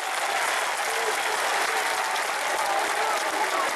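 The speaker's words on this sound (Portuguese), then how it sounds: "Aplausos, talvez irônicos, surgem na Gaviões." Corinthians supporters of the Gaviões organized fan group applaud in a football stadium, a dense, steady wash of clapping that holds at constant loudness throughout with no break.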